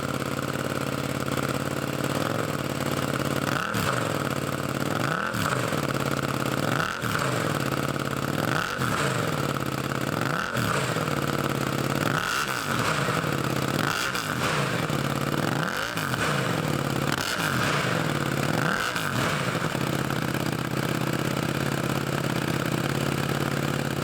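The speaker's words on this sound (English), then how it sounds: "the beautiful exhaust note that comes from the Akrapovic exhaust system" A KTM RC8C race motorcycle with an Akrapovic exhaust is revved repeatedly in place, about a dozen sharp blips rising and falling evenly over a loud, constant idle drone, close and without talk.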